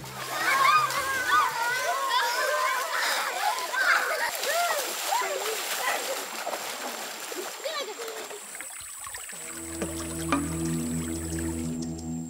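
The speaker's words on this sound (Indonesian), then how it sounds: "Mandi dengan air kecoklatan tanpa peralatan mandi adalah satu-satunya cara bagi mereka untuk bersih-bersih setiap harinya." Children splash and play while bathing in a small brown river in a Papuan or Lombok forest setting, with steady water splashing under loud children's voices and chatter throughout, and a shift to a different ambience near the end.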